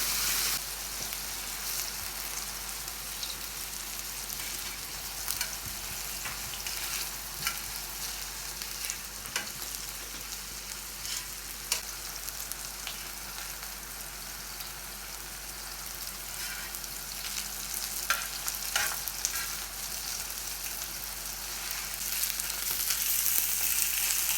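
Tawa kabab tikki patties frying on a flat griddle give a steady, close hiss of sizzling oil across the whole stretch, with scattered small pops and crackles and no voices.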